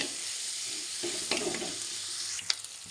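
Sliced onion frying in a pan for sambar, a soft steady sizzle with a few light scrapes as it is stirred, fairly close and alone.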